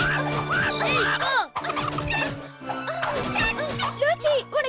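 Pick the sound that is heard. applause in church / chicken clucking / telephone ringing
chicken clucking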